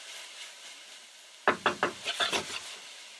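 Onions being stirred in a pot for a basic marinara sauce, a short run of about six scraping, rubbing strokes of a utensil against the pot, close and fairly soft after a quiet pause.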